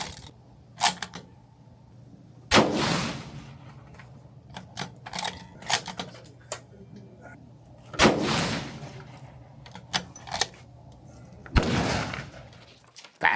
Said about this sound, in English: Chris, I can shoot.